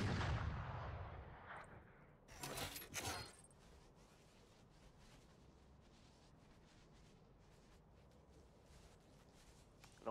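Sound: wallbang gunshots fired through a wall in a shooter video game

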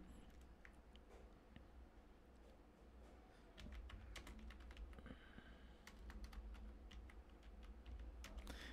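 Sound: typing on a computer keyboard

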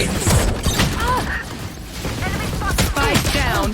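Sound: gunfire in a video game

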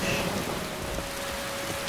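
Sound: rain falling in the video game Skyrim

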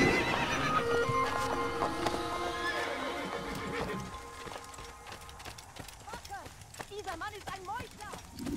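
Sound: horse neighing and hooves in the video game Assassin's Creed

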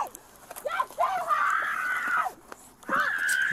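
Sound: man screaming in pain

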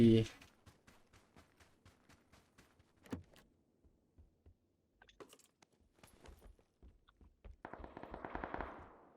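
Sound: gunfire from the video game PUBG Battlegrounds

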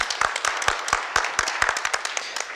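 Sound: applause for exhibition designer Mia Kulin

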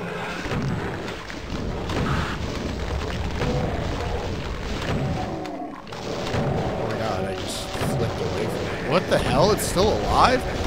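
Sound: rocket explosions in a video game

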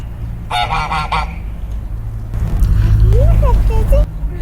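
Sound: rooster calling

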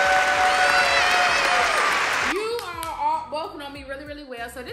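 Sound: group applause

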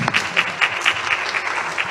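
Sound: audience applause

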